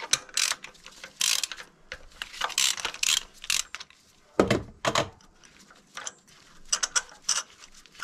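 A ratchet wrench unscrews an old spark plug from a car engine, giving repeated bursts of close, dry clicking with short pauses in between and no talking.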